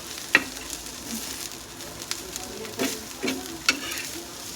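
Momos roasting in a frying pan, with a steady close sizzle broken by a few sharp scrapes and clinks of stirring.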